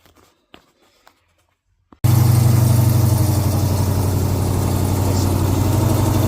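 A car engine cranks and fires after a few quiet clicks, then settles into a loud, steady, close idle with an even low rumble that runs to the end.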